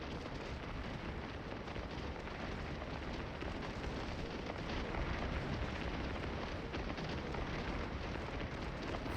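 Two regiments fire massed musket volleys in the Civil War game Scourge of War: Gettysburg, a dense, unbroken crackling roar of many distant shots that holds steady throughout, with no voices.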